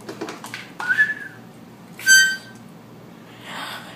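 A few short, shrill whistle blasts sound close by, separated by pauses, with some faint puffs of breath and rustling between them.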